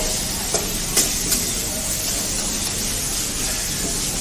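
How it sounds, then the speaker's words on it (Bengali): A home cook stirs food in a hot pan in a hotel room kitchen setup, a steady broadband sizzle running throughout with a few faint scraping clicks early on, and no talk over it. "এই যে মা রান্না করছে"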